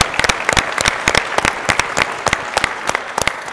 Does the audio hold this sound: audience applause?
yes